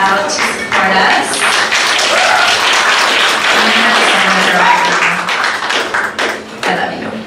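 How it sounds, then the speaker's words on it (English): An audience breaks into loud, sustained applause that fills the whole stretch, dense clapping rising quickly and then thinning slightly toward the end, with scattered voices mixed in. "Give her a hand of applause for coming out to support us."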